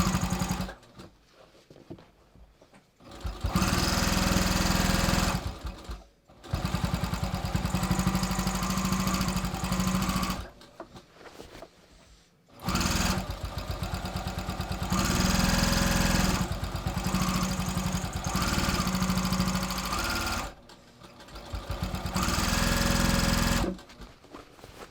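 A sewing machine stitches along a pair of jeans in long, loud, steady bursts of motor whir, separated by short pauses as the stitching stops and starts again.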